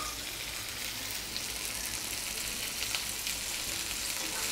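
Lady fish frying in coconut oil in a pan, a steady close sizzle and crackle running unbroken throughout with a few brighter pops, no voices.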